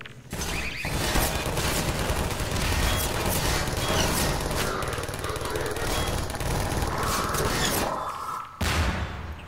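Gunfire in the Half-Life 2 video game: loud, dense, rapid shooting that runs almost nonstop for about eight seconds, breaks off briefly, then resumes.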